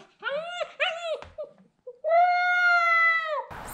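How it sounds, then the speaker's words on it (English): Rottweiler puppy, eight weeks old, whining and whimpering inside a house, a run of short high cries followed by one long sustained whine, heard clearly and fairly close. "She's whining inside and we can hear her from out here."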